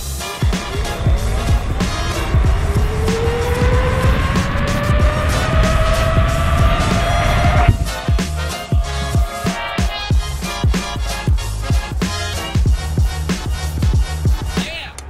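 Inmotion Challenger V13 electric unicycle without suspension accelerating hard, a loud motor whine climbing steadily in pitch for several seconds over wind and road rumble, then giving way to bumpy rolling noise and knocks.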